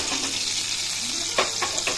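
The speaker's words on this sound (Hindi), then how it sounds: "और अब मैं लास्ट में बस एक तड़का लगा रही हूँ घी का" Ghee tempering sizzles and crackles steadily as it is poured over a black chickpea dish, with a few sharper pops near the end and no talk.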